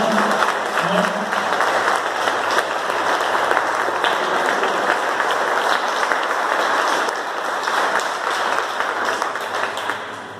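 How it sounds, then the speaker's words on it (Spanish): Congregation giving loud applause during a Spanish-language church service, a dense, sustained wall of clapping from a large crowd lasting throughout, fading slightly at the very end. "yo quiero esta mañana que demos un fuerte aplauso por la vida de ellos"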